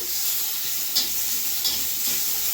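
Garlic and chopped tomato frying in a small amount of oil, a steady soft sizzle with occasional stirring scrapes, close and alone without talk.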